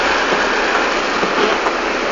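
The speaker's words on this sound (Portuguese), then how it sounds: "Olha o jeito que a água tá passando lá" Floodwater in a river after heavy rain in Uberaba, a loud, steady rushing roar of strong current with no break and no voices.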